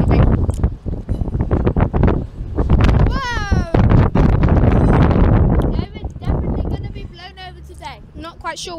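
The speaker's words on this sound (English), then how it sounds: "It's very windy today, it's been on and off." Gusty wind buffets the microphone on a station platform at Manchester Piccadilly, rumbling and thumping in uneven bursts beneath a person talking throughout.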